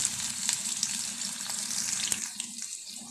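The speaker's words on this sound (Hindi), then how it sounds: "प्याज फ्राई हो चुका है," Onions frying in a pan give a steady, close hiss and sizzle with small crackles for a few seconds.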